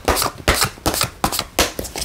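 Tarot cards being shuffled by hand, with about six quick riffling bursts in a steady rhythm, close and crisp with no talking.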